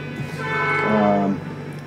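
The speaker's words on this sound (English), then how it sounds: "We get a double train today." A train horn blares close by in a sustained, steady blast of about half a second, rising out of continuous rumbling train noise with voices underneath.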